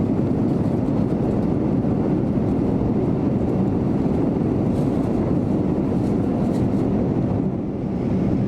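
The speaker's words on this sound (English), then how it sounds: "The 787 is a really quiet aircraft and you can barely even hear the engines" Boeing 787-9 engines in cruise heard from the economy cabin make a steady, dense low roar with a broad airy rush, constant and unbroken throughout.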